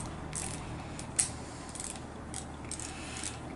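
Faint close-up ratcheting clicks as a bolt is tightened on a Suzuki V-Strom 1000 OEM motorcycle hand guard, several light metallic ticks over quiet background hiss.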